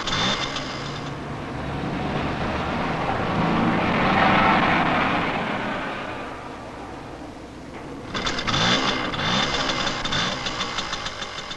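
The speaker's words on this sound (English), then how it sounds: "Mike and the other two novice moped drivers start and shut down the motor a few times." A moped motor in a 1979 safety film starts and runs, a buzzing, knocking engine that rises and falls in loudness, fades, then clatters back up near the end.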